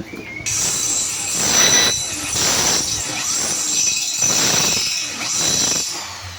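Power drill with a 1/4 inch bit boring holes for screw bolts into plywood, a loud sustained whine with rhythmic surges and dips, close and continuous with no voices.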